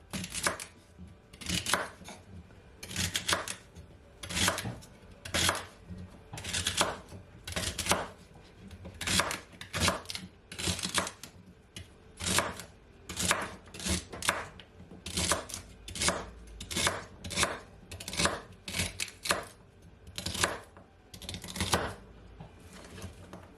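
A knife chops celery on a cutting board, a steady run of sharp, close, even knocks repeating for the whole stretch with no talking.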